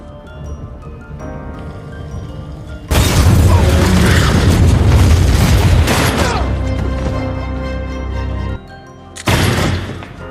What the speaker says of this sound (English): Suddenly, an explosion goes off.